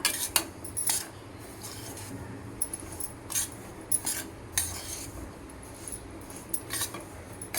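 Semolina roasting in a heavy pan over low heat, stirred continuously, giving soft gritty rubbing under irregular light metallic scrapes and clinks of a spoon against the pan, quiet and close.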